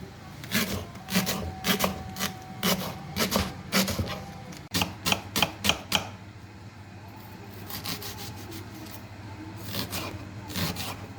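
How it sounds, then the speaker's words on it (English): A knife chops through leek on a cutting board in a run of crisp, evenly spaced taps, close and clear, pausing briefly before a second, sparser series of cuts. "So slice your leek in half, and then you can check if it's clean."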